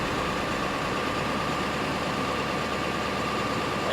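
Ford 7.3 Powerstroke diesel truck engine idling steadily after a wiring harness replacement, a continuous, even broadband rumble heard close up without talk.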